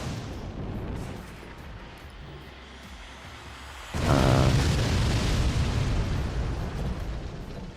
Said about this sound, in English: That is a lot of rockets.